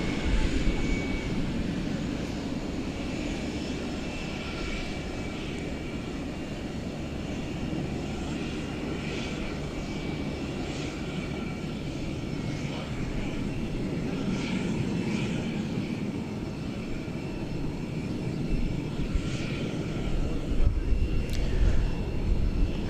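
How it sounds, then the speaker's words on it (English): An American Airlines Airbus A321 airliner arrives at night at DFW, its engine noise a continuous moderate rumble and whine lasting throughout, with faint voices now and then beneath it. "Here comes American Flight 1394, Airbus A321."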